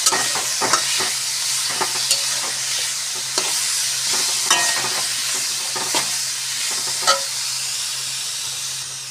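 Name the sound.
stirring star fruit chutney with salt in pan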